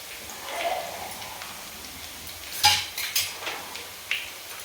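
Garlic browns in a pan, with a soft background sizzle broken by a few clinks and scrapes of a utensil stirring against the metal. The stirring sounds come in a short cluster near the end. Very little talking.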